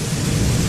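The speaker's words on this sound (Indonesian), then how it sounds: "Dan ketika itu kondisi sedang hujan." Heavy nighttime rain pours with a loud, close rumble of thunder, a dense roar that fills the whole moment.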